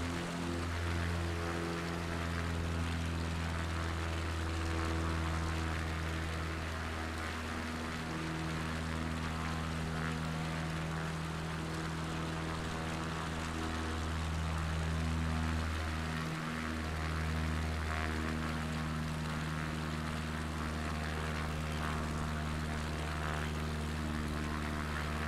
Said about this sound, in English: Plane's coming over.